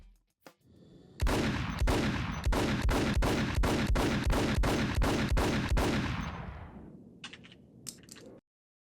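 Rapid gunfire from the Max Payne video game, about a dozen loud, evenly spaced shots over roughly six seconds, each a sharp broadband crack with a short tail, fading out at the end with a few fainter pops.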